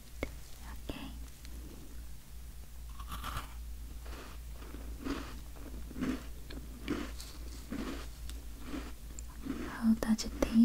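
Chocolate chip cookie bitten and chewed up close in a sweet-shop roleplay setting, giving soft repeated crunches and moist chewing sounds spread across the clip, with quiet whispered talk in between.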